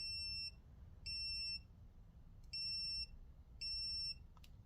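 Four high-pitched electronic beep tones from a rechargeable dog training e-collar, each about half a second, repeating at a steady pace over a low background hum, followed by a faint click.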